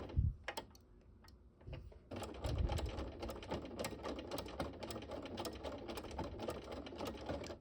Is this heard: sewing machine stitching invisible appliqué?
yes